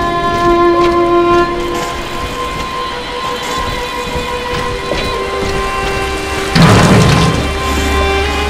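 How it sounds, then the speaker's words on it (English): A train arrives in the video game BioShock: a steady, loud mechanical rumble with sustained tonal hum, broken by a sharp burst of noise near the end and no speech. "The train's ready!"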